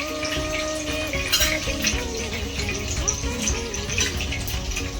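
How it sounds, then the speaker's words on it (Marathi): Onion drops into hot oil already sizzling with curry leaves for a Konkan-style dried bombil bhaji, giving a loud, bubbling, watery frying hiss beneath a faint voice. "त्याच्यामध्ये आपण कांदा टाकतो."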